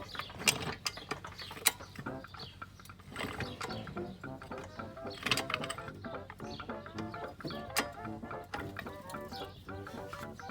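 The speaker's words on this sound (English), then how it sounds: "Jacking it up." A car jack ratchets up under a 2003 Honda Civic at its jack point, giving repeated clicking and creaking mechanical strokes in an uneven rhythm, close and fairly quiet with no talk.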